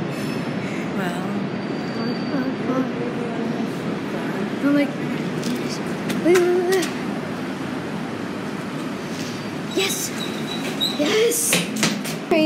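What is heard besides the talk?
train passing by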